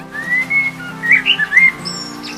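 A cartoon bird chirps and whistles up close, a quick string of bright rising and falling tweets in short bursts, loud and alone.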